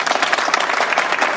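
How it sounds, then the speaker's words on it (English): Loud, close applause from a small group, dense clapping with an uneven, fluttering texture throughout. "Applause."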